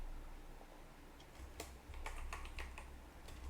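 Typing on a computer keyboard, a quiet run of light key clicks in short irregular bursts over a low hum, close by with no voices.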